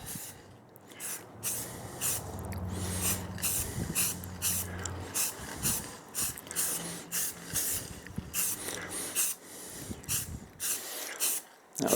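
Short bursts of a spray can or spray gun lay a test coat of primer on a 1929 Chrysler window channel corner, a series of close, uneven hissing puffs with pauses between them.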